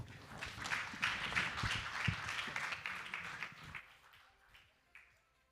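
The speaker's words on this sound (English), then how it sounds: "I'd like you all to give a round of applause to that excellent panel." Audience applause after a conference panel on broadband and AI for Africa, a dense wash of many hands clapping that is fairly loud for about four seconds, then thins to a few scattered, fading claps.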